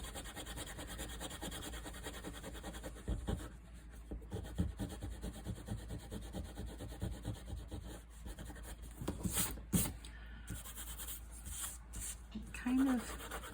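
A sand eraser is rubbed hard over a dark ink stamp on very light paper. It makes quiet, irregular scratchy scrubbing strokes in short bursts with pauses, close to the microphone.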